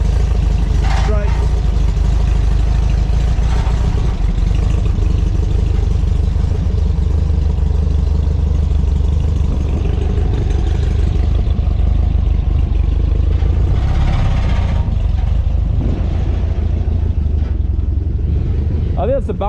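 A 1964 VW Beetle engine runs with a loud, steady low rumble and clatter throughout, with people talking over it.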